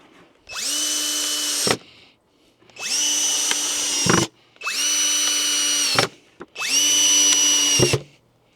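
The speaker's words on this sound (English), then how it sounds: "we're just going to put these together with some A screws" Power drill driving screws during assembly of a raised garden bed, four sustained whirring bursts of about a second and a half each separated by short pauses, loud and close with no talk.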